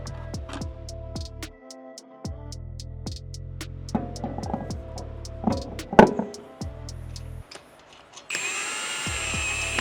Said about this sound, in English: using a 10mm socket, re-secure the factory lower control arm cover to the lower control arm.